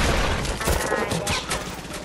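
Rapid bursts of automatic gunfire in a Fortnite match, loud and dense across the whole stretch, with a voice faintly underneath.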